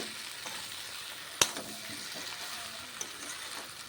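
Chicken with taro stems sautéing in a pan, a steady soft sizzle with a sharp utensil scrape near the start and a few lighter clicks, no talk.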